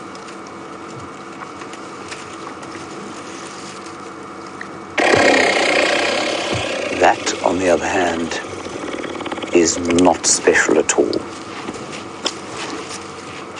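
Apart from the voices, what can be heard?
elephant passing gas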